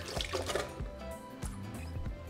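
Water, three Roma tomatoes and fifteen chiles de árbol go into a blender jar for red salsa, making quiet splashes, drips and soft thuds in a short close sequence.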